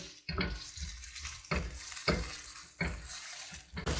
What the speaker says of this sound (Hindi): अनियंस को इस ऑयल में हम हल्का सा सुनहरी करेंगे।